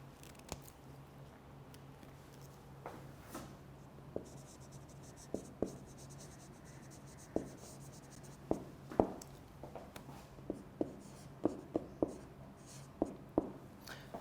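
Chalk or marker writing on a board during a lecture, heard as a series of sharp taps and short scratchy strokes that grow more frequent, close against a quiet room hum.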